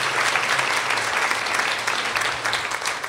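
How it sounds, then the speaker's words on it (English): Audience at a charity luncheon applauding with steady, dense clapping from a crowded room, moderately loud and continuous for a few seconds with no talk over it. "I want to give her another round of applause."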